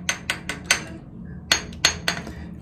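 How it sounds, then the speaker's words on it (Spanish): Someone taps a stuck shower valve stem with a hammer to loosen it: about seven sharp, ringing metallic knocks, close by, in two quick groups with a short pause between. "si está un poco atorado, hay que darle unos golpecitos"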